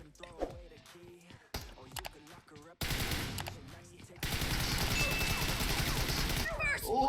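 M4 rifle fire in a PUBG Mobile team deathmatch, sustained loud automatic bursts that run on for several seconds after quieter game sounds, with a voice talking underneath.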